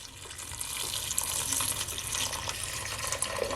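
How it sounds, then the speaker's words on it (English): Water poured steadily from a kettle into a pot of soaked peas for Jamaican rice and peas, a continuous splashing, gurgling stream, close up and fairly loud with no voices. "So now I'm gonna add the water from my kettle."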